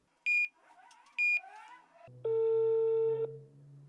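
Phone beeps while calling a supplier: two short high electronic tones, then a longer steady tone with a low hum, close and clear, with no talk.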